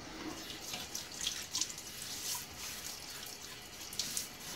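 Tap water runs in a steady, fairly close stream while hands are wetted at a sink before a shave, with no talking.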